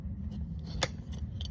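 A horse's hoof is trimmed, with a low steady rumble underneath. One crisp snip stands out near the middle and fainter cuts follow.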